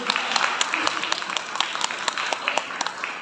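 A wedding-ceremony audience claps together in a dense, continuous round of applause made of many quick overlapping claps, fairly close and steady throughout.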